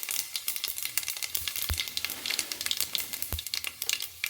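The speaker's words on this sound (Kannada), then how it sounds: "ಇವಾಗ ಸ್ವಲ್ಪ ಸೋಂಪನ್ನು ಹಾಕ್ಕೊಳ್ತೀನಿ" Fennel seeds sizzle and spit in hot oil in a tempering for dal palak, a steady close crackle scattered with sharp pops and a couple of louder knocks, no voices.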